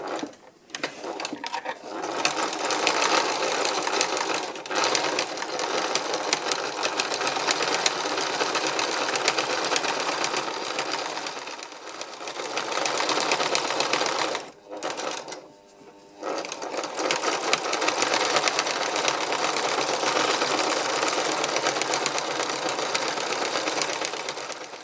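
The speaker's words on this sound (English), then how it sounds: "A bit of free machine embroidery." A sewing machine doing free machine embroidery with copper thread, stitching continuously and loudly with a fast steady whir, briefly pausing twice before running on.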